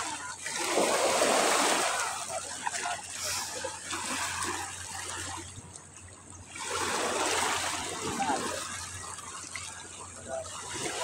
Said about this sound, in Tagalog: Sila po ay naliligo na.